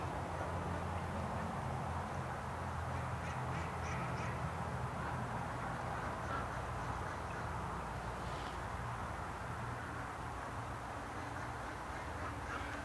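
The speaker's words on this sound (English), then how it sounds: "Sounds like there's still a whole bunch of ducks in the metal shed" A flock of ducks quacks inside a metal shed, a faint, distant chorus of overlapping calls over steady low background hum.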